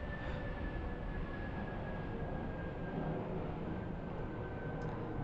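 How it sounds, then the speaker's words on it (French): Airplane passing overhead, a steady broad roar with a faint high whine throughout, fairly quiet and distant, with no talk. "Il y a un avion qui va passer."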